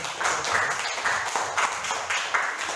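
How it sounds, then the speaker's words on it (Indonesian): A classroom of students claps together in short rhythmic bursts, a brief round of applause for a group presentation heard at moderate volume. "kita berikan tepuk tangan"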